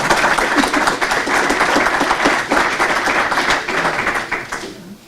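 An audience at a Drupal 8 tech talk claps in dense, steady applause for about five seconds, then quickly tails off near the end.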